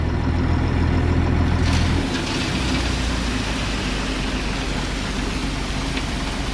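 A readymix concrete mixer truck with its engine running and the drum turning in reverse, a steady loud diesel rumble and churning drone heard close by, with no talk.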